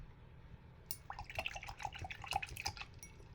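A paintbrush swished and tapped in a jar of rinse water while painting with acrylics, giving a run of small, close drips and clinks over about two seconds, with no talking.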